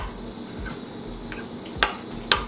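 Utensils clinking against a bowl while vegan corn chowder is mixed, soft scraping followed by two sharp metallic taps near the end, close and fairly quiet.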